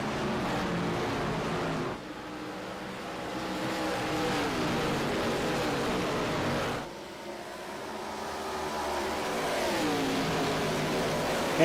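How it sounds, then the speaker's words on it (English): A field of ARCA race cars on track at Watkins Glen in a sim racing game, engines roaring and shifting gears in a continuous loud drone, with pitch sweeps as cars pass and accelerate. "24 ARCA cars set to go racing"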